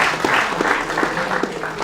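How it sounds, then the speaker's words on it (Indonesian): A group of students at a Palembang college event claps briefly in a short, fairly loud burst with a few sharper claps standing out over the crowd noise. "silakan adek tepuk tangan dulu"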